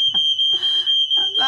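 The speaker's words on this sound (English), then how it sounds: "alarm trigger" A high-pitched electronic alarm beeps continuously and loudly, holding a steady piercing tone throughout while indistinct voices talk underneath it.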